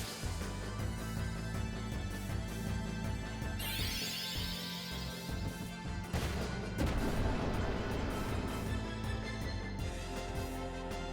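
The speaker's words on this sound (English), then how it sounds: "Why do you get to use 2 cannons in a row?" Cannon attacks from the video game Final Fantasy IX fire back to back, with heavy booming crashes and bursts layered over continuous loud game music.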